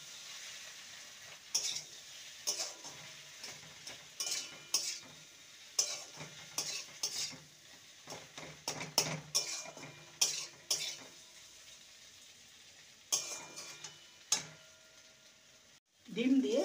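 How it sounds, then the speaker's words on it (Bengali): An egg mixture is stirred and fried in a pan, with a soft sizzle under repeated scraping and clattering of a utensil against the pan in irregular bursts, ending in a louder rustle. "এবার ডিমের মিশ্রণটা দিয়ে রেখেছিলাম, এবার এটাকে নেড়ে নেব"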